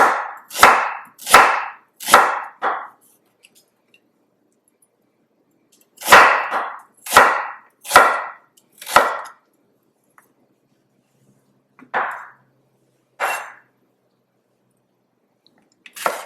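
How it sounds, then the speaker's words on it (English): Sharp, close chops of a knife through ginger onto a cutting board, first in a quick run of four, then another run, then scattered single cuts. "I'm also going to cut up my ginger."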